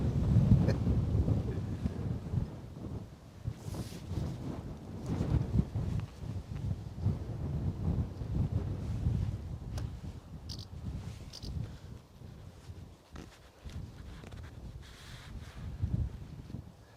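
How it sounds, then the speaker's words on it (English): Strong gusty wind at Bristol Airport battering an outdoor microphone, a continuous low rumbling roar that swells and eases in waves, loud and close, with no voices heard. "What a blowy wind."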